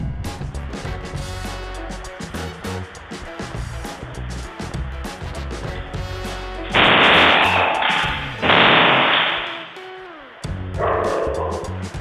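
A large dog barks behind a glass door, with a fast run of loud, booming barks followed by several harsher, noisier bursts and thuds.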